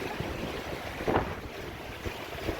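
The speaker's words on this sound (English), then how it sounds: "Wind has picked up." Wind rushes over a sailboat moving at 4 to 5 knots at sea between Tweed Heads and Mooloolaba, a steady buffeting roar against the microphone with waves washing underneath.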